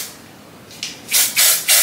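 A can of hair holding spray gives a few short hissing bursts close by: one faint puff, then three strong sprays in quick succession, with no talking.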